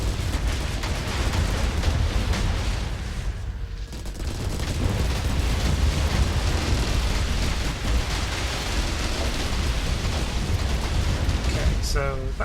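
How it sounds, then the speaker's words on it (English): Rumbling explosions and bursts of weapon fire sound in a space battle in the video game Star Drive, a dense loud barrage that dips briefly in the middle, with a faint voice buried underneath. "Love that explosion lighting up the hulls then"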